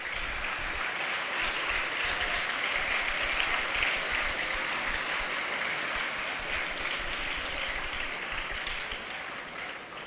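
Audience at an Independence Day celebration applauds in a long, even stretch of dense clapping, heard from a moderate distance and fading a little at the close.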